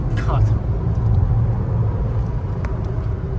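Skoda Kylaq car accelerating on a highway in manual mode, a steady low engine and road rumble heard from inside the cabin, with a voice speaking briefly over it.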